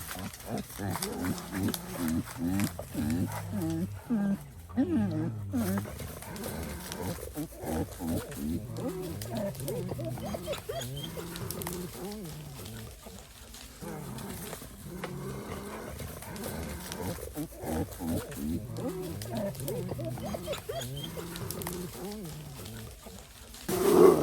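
A pack of wild dogs in a bamboo forest lets out repeated barks, yelps and growling howls from close by, overlapping continuously while people's voices are mixed in.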